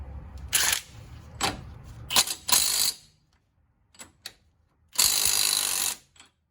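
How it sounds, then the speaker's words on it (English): A ratchet wrench loosens the CV axle nut on a 1997 Chevy Blazer 4x4 front hub. Close, loud bursts of rapid clicking come in short strokes with pauses, then one longer run. "Now I'm gonna take this CV axle nut off. This fits kind of loose, but we'll give it a whirl here."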